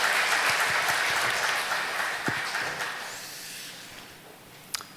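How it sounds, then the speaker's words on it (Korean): A church congregation applauds during a Sunday worship service, a dense wash of clapping from many hands that gradually thins and fades away. "박수 올려드리겠습니다."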